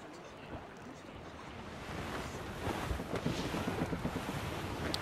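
A sailing ship cuts through ocean waves in the Assassin's Creed Rogue video game, with wind rushing and water washing around the hull, growing louder and choppier midway, and faint voices in the mix.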